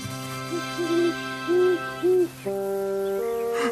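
Gros Hibou, a cartoon owl from the Père Castor animation, gives a series of soft, rounded hoots in short groups over a sustained musical backing, followed by a longer held tone.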